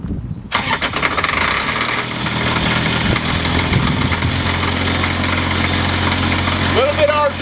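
A fire pump engine on a fire apparatus during basic pumping operations starts up and then runs loud and steady, rising in RPM to build pressure, with a voice talking over it.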